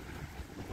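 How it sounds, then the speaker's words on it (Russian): Strong wind blows at the seaside in Anapa, Russia, in September, a steady rushing roar that buffets the microphone, with faint hints of sea beneath. "Ух, какое ветрище здесь задувает."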